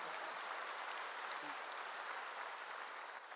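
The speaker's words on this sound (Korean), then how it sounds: "박수 한번 하세요." A church congregation applauds in a steady, dense wash of clapping that fills the whole stretch at moderate loudness, with no speech over it.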